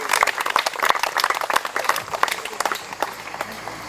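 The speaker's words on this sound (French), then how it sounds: "je crois qu'on peut vous applaudir pour cet engagement" Applause from an inauguration audience in Montignac for the president, a burst of individual claps near and far, dense at first and thinning out toward the end, with some voices mixed in.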